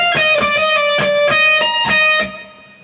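An electric guitar plays one bar of a guitar solo from the 2024 Oscars with a bright, clean lead tone. Several quick picked and hammered notes come in a steady rhythm, loud and close, then ring out and fade.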